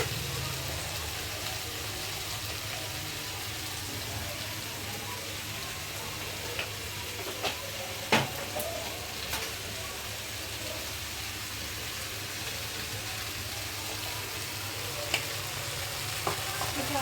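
Paneer with potato and tomato vegetables frying in a wok, giving a steady, close, continuous sizzle with occasional light clinks of stirring throughout.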